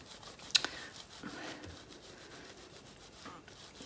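Soapy wet felt fibres being rubbed by hand while making a clutch purse from batt fibre, a quiet, close, continuous soft scrubbing with one sharp click near the start.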